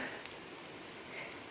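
Rain falls outdoors as a steady, even hiss of drops on surfaces, fairly close, with no one talking.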